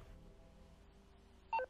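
A short electronic ring-tone chirp from an in-game phone in Grand Theft Auto 5: a brief bright tonal beep near the end, faint and alone over low game ambience.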